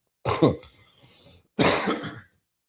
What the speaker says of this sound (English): Yes, I will cough in your ear.